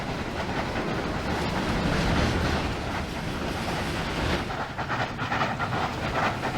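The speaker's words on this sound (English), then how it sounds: "this is a testament to the pulling power of this locomotive" In Trainz 2019, a Zecrail VR V Class locomotive hauls a heavy train uphill. A steady, loud engine rumble blends with hiss and rail clatter without pause, and no voices are heard.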